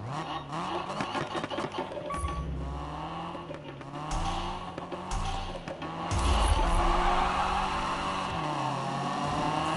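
A street car fitted with an anti-lag system pops and crackles as its engine revs repeatedly, close and loud, with rising bursts of acceleration throughout.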